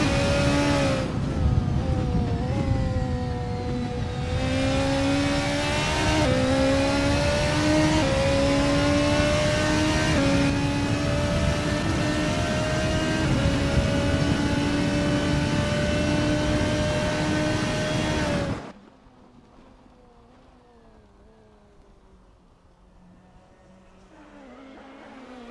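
An LMDh hybrid prototype race car laps a track in the Assetto Corsa racing sim, its engine droning loud and steady through rising and falling gear changes for about eighteen seconds before the sound drops abruptly to a faint, distant hum.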